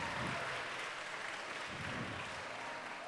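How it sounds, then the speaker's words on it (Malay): An audience at a youth panel program in Sandakan, Sabah claps steadily, a dense wash of applause that holds evenly for a few seconds with no voices above it. "Berikan tepukan."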